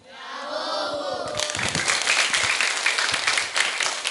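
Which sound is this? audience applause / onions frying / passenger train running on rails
audience applause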